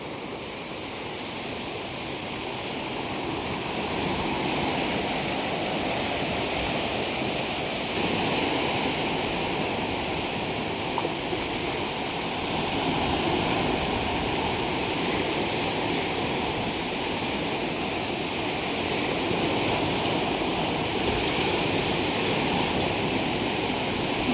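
Sea surf breaks over a rocky shore at a fishing spot, a continuous loud rushing roar that swells gently, with no voices.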